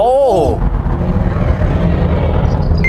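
A new-model Ford Mustang 2.3 revs its exhaust nearby, heard from outside as a loud, deep, continuous rumble with voices over the start.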